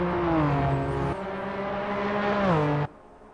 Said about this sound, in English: You can hear it, the car's not happy coming off that last corner.